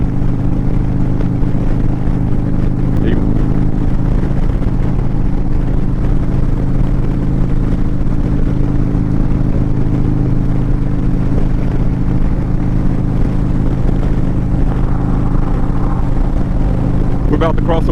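An Indian Chief motorcycle fitted with ape hanger bars and a Zipper's Performance 124 kit cruises along a highway, a steady loud engine drone with wind rumble continuing throughout.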